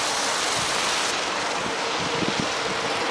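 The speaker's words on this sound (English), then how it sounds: "nice little wind going here today" Wind blows outdoors on a January day, a loud, steady rushing roar that buffets the microphone throughout with no talking.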